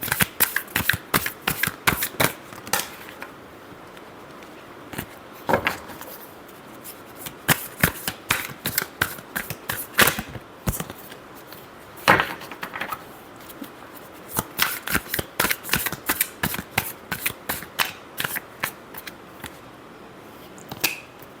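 Tarot cards are shuffled by hand in a quick series of crisp riffling bursts and snaps, repeated throughout at close range with short pauses, with no talking.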